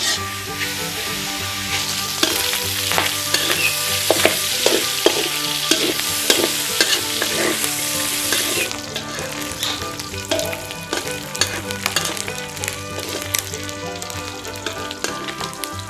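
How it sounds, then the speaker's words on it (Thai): Pork belly stir-fries in hot oil in a pan, with a steady loud sizzle, frequent scraping stir strokes and a layer of spattering crackle, heard up close with no talking. "เดี๋ยวเราจะมาลวนหมูสามชั้นก่อน เพื่อให้น้ำมันมันบางส่วนมันออกไป"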